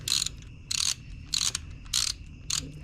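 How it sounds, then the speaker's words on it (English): Torque wrench tightening coolant system bolts on a Mazda FC RX-7, five sharp ratcheting bursts at a steady rhythm of about one every 0.6 seconds, close and crisp over a quiet background. "I've already got my torque wrench set to 24 Newton meters, so that's what we're gonna go with"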